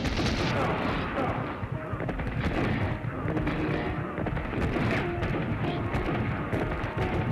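Gunfire in the mobile shooter game Bladeslinger, HD remastered, with dense, continuous shots and booms filling the whole stretch under a busy game soundscape.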